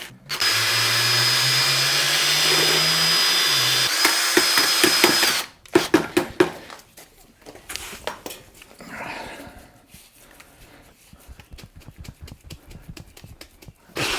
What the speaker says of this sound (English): We've got a nice drill, be able to mix it up.